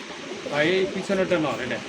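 A pair of fancy pigeons in a loft cooing softly and briefly close by, with a person talking over the calls.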